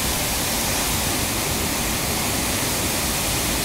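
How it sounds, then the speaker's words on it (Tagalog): Imogan Falls, a waterfall in Malico, San Nicolas, Pangasinan, pours in a steady, dense broadband rush that fills the whole clip without a break, heard up close with no voices. "Imogan Falls."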